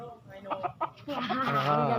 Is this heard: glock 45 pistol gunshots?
no